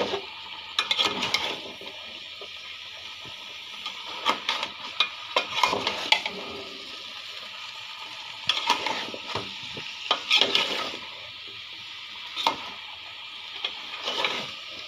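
Pumpkin and chicken stir-fried together in a pan, a steady sizzle broken by repeated scraping and stirring clatters spread across the whole stretch, close and moderately loud, with no voices.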